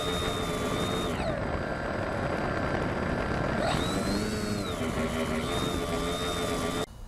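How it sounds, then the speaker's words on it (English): B-17 bomber in a flight video game, its engines giving a steady, loud drone with a high whine that bends in pitch during maneuvers, continuous throughout. "Within seconds, flying the B-17 was second nature."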